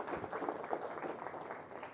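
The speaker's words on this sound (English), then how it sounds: "Please give Ms. McFarland a round of applause." An audience at a policy conference claps in a brief, steady patter of many hands, moderately distant and evenly sustained for a couple of seconds.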